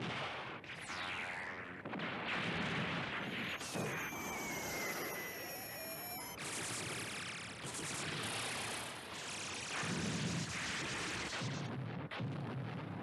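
Reversed explosion effect from the 1974 Space Battleship Yamato anime, a loud, dense roaring blast with sweeping whines and crackling debris sustained for the full thirteen seconds, no speech.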